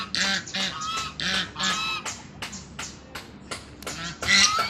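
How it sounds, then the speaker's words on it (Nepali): A flock of ducks at a rural home in Nepal quacks repeatedly, a rapid run of loud, harsh, close calls in bursts with brief pauses, and no voices. "हाँस हेर्ने कराएको हेर्नु कस्तो कराउँछ कि।"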